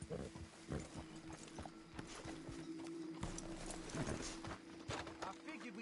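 Horses clip-clop along in Red Dead Redemption 2, with steady hoofbeats under the continuous talk of people in the game, while a low hum and faint ambient noise sit in the background.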